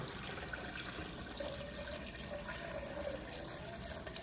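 Filtered water pours steadily into a blender, a continuous splashing rush at moderate volume with no voices.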